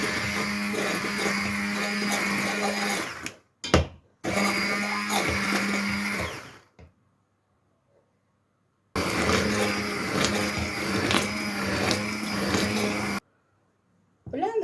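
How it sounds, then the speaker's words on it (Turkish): A blender purées cooked tomato sauce, whirring loudly in two long bursts with a brief stop between them, a steady roaring motor close by, then cuts off. "Kaynattığım domates sosumu blenderdan geçiriyorum."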